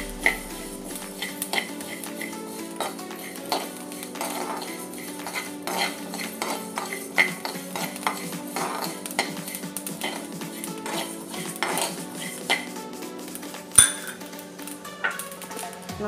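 Coriander seeds dry-roasting over a low gas flame in a pan with mustard seeds, stirred steadily so a spoon scrapes and taps the metal again and again, with a faint sizzle underneath throughout.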